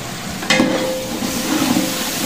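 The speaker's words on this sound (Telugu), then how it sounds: "బాగా ఫ్రై చేసుకోవాలి. 10 నిమిషాలు ఫ్రై చేసుకోవాలి." Tomato and turmeric sizzle in a hot pan for poha, a close, steady frying hiss with a sharp stir or scrape near the start and no talking.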